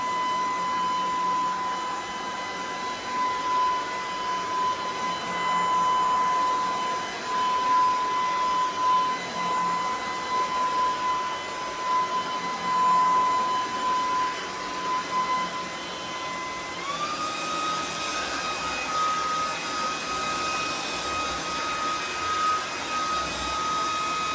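A Bissell Iconpet Turbo cordless stick vacuum runs continuously with a steady whirring hum and a high whine, its pitch stepping up partway through as the mode changes, with no voices.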